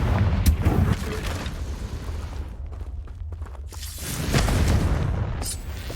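Confringo spell explosions in the video game Hogwarts Legacy on PS5, a booming blast near the start and another swelling burst toward the end, with rumbling low energy between.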